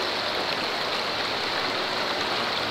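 River flowing, where kingfishers live in Calderdale: a steady, loud rush of moving water, close and unbroken, with no voices.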